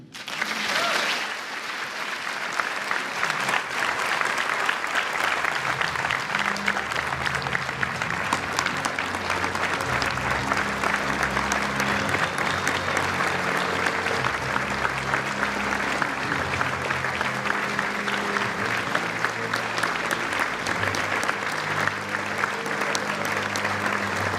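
A large audience at a Civil Rights Act 60th anniversary commemoration with President Joe Biden gives Ambassador Andrew Young sustained, dense, loud applause lasting over twenty seconds.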